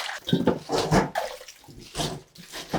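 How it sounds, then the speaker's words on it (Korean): Washed cabbage being rinsed in water in a kitchen, with uneven sloshing and splashing bursts rising and falling, close by and with no talking. "이제 3분이 되었기 때문에 헹궈 보도록 하겠습니다"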